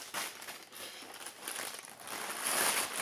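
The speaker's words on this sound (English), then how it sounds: "And then everything goes into this very noisy bag" A stainless steel cook kit is pushed into a noisy plastic bag, giving continuous close crinkling and rustling over a few seconds without speech.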